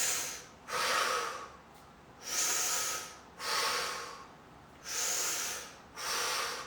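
Slow, deep breaths drawn in through the nose during a guided stress-relief exercise, each inhale a soft airy hiss lasting about a second, repeating five times at a calm, even pace.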